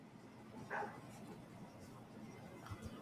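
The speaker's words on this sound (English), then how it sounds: "hear these damn dogs" Dogs bark faintly in the distance in a few scattered yips against a quiet, muffled indoor background.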